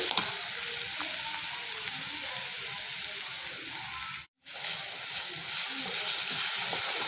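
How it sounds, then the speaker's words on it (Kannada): A calzone filling with pepper powder sizzles continuously in a hot pan while being stirred, a steady close frying hiss with soft stirring scrapes that briefly cuts to silence partway through. "ಮೆಣಸು ಪುಡಿ ಹಾಕಿ ಒಂದ್ಸಲಿ ಕಲಸೋಣ"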